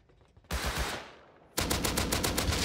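Gunfire in the survival video game Rust comes as two sharp bursts. The first is a single loud shot that fades away, and the second is a rapid volley of repeated shots.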